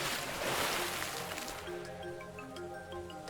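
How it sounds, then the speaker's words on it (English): Ocean waves in the video game Aoi Shiro, a loud surging wash of surf that swells and then recedes while tonal game music carries on underneath. "A large wave swallowed up Nami"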